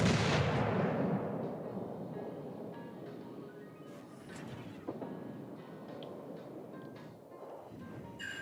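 Torpedoes launch from a destroyer in World of Warships with a loud booming onset that fades into a long, low rumble, followed by scattered faint game effects.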